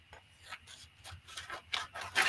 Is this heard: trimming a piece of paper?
yes